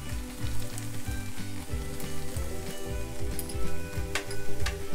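Vegetables and boiled kidney beans fry steadily in a pan for a Mexican-style beans and corn wrap, giving a continuous close sizzle with bursts of stirring and no voices.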